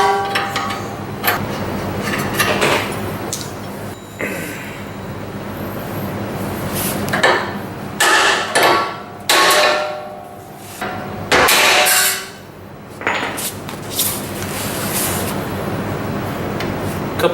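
A hammer strikes metal repeatedly while knocking an outer tie rod end off a car, a series of loud sharp clanks spaced irregularly, with a little talk and shop clatter between blows.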